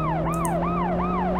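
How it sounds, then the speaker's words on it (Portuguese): A police car siren in the game World's Scariest Police Chases wails up and down in fast, repeating cycles, loud and steady over a constant engine hum. "Vamos ligar a sirene."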